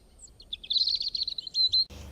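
A sparrow lets out a rapid run of thin, high chirps lasting over a second, clear and close against a quiet background.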